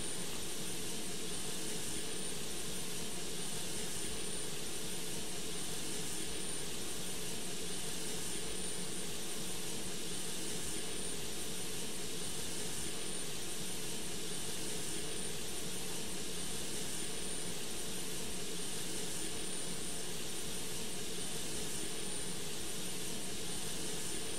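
Jet engines of a Boeing 727-200 taxiing in a flight simulator, a steady whining hum with a high-pitched tone running unbroken and evenly loud for the full length, no voices.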